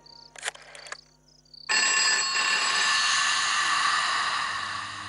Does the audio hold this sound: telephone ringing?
yes